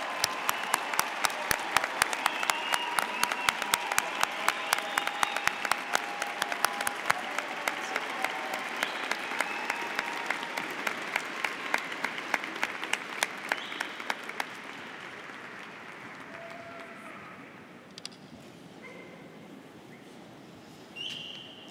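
A large crowd claps steadily for graduating psychology students at a university commencement ceremony, dense and sustained for about fourteen seconds before thinning into scattered claps and quiet murmur.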